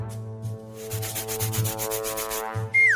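A simple handsaw is drawn back and forth through a very large burger in a kitchen food challenge, making steady rasping strokes under a sustained musical backing, ending with a rising whoosh.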